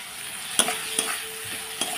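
Masala with cumin powder and Kashmiri chili powder frying in a pan, a steady sizzle broken by a few sharp scrapes of a spatula, with no talking.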